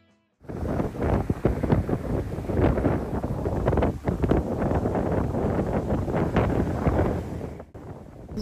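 Strong wind on a beach at Fort Lauderdale, Florida, roars and buffets steadily against the microphone, with heavy gusty rumble throughout and surf-like noise underneath, starting abruptly after a brief silence.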